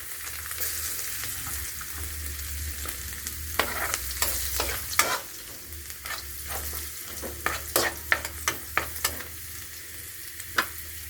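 Garlic sautéing in hot oil in a pan, a constant close sizzle broken by repeated sharp scrapes and taps of a spatula against the pan, no one talking.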